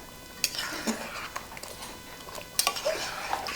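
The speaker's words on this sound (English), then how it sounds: "Now we're going to add the partially cooked rigatoni into the sauce, 1 cup of your Fontina cheese, and mix." Partially cooked rigatoni tossed with Fontina cheese sauce in a pan, giving soft wet stirring under sharp intermittent clinks and scrapes of a utensil against the metal, close and fairly quiet.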